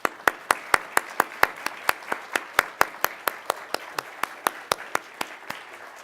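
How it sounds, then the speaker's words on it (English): Single-person clapping at an anniversary reception: about two dozen sharp, evenly spaced claps in a steady rhythm, fairly faint with quiet room sound behind. "a round of applause for the O'Neill Institute"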